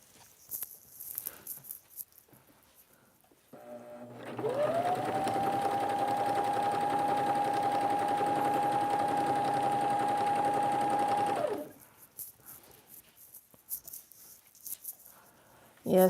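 A sewing machine runs steadily for about seven seconds as it stitches a straight seam along the edge of curtain fabric for kitchen and door curtains. Its even motor whine is close and loud, with quieter handling noises before and after.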